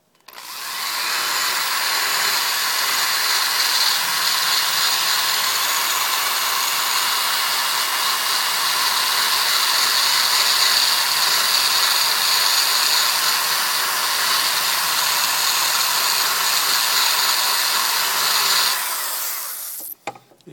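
A power tool grinds steadily on a late Rover Mini Cooper cast cylinder head, one loud continuous high whine lasting about nineteen seconds before it cuts off.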